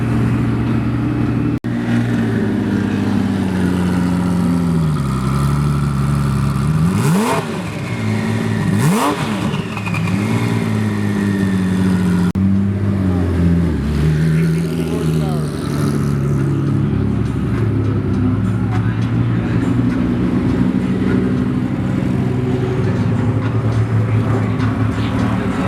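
Twin-turbo Lamborghini Huracan and twin-turbo Porsche GT3 pull away from a car meet, deep engine drone rising and falling with throttle blips, revving surges near the middle, loud and continuous throughout.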